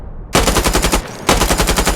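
A gunner in a video game lets off two long bursts of rapid machine gun fire, loud and close, with a brief pause between the rattling volleys.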